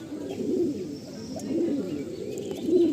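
Pigeons coo in low, rolling phrases in a loft, several high-flying Chennai-breed birds overlapping in a steady murmur with no talking.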